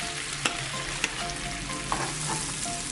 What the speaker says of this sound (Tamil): இப்போ நம்ம போட்டதுக்கு அப்புறமா எப்படி வந்துச்சு பாருங்க, வெண்ணெய் எப்படி கரையுது பாருங்க.